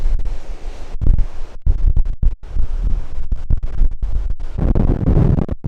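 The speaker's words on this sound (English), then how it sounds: "I don't know if you can hear the wind or not" Wind buffets the microphone at a harbor point in Port Stephens, coming as loud irregular gusts and rough scratchy bursts with brief drops, and a faint wash of surf underneath.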